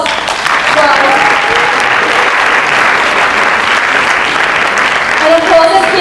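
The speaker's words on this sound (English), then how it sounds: "let's give all of ourselves yet another round of applause" A loud round of applause from a finale event audience, steady and sustained across the whole stretch, with a few voices and cheers rising above the clapping near the end.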